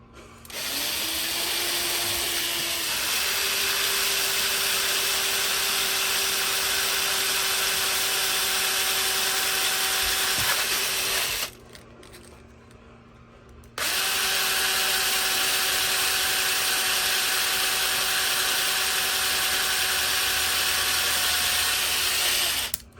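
A power drill whines steadily for about eleven seconds, stops briefly, then runs again for another stretch, loud and close with no talking, drilling plastic wheels off a toy car.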